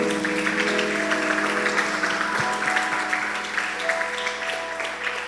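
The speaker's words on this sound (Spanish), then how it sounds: "dale un fuerte aplauso a nuestro Señor" A church congregation claps loudly for the Lord at the close of a service, dense sustained applause over lingering sustained keyboard tones, easing slightly toward the end.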